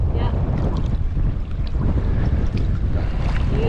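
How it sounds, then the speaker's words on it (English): Strong wind buffets the microphone while fishing for brown trout on a river, a constant loud low rumble and gusty roar with no pause. "That's windy"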